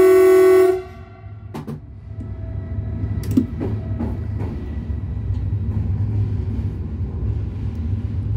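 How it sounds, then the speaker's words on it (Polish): A loud, steady Lk 900 locomotive horn blast in a forest opens the clip, then cuts off into a low rumbling railway drone with faint clanks, no voices. "No i można w lesie trąbić."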